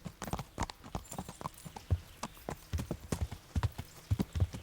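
A horse's hooves clip-clop in steady, uneven beats in the medieval video game Kingdom Come: Deliverance, moderately loud and near, with no talk over them.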